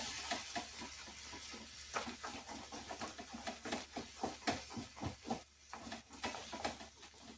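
Egg scrambles in a hot pan, a soft sizzle broken by a steady run of rhythmic scraping strokes as it is stirred.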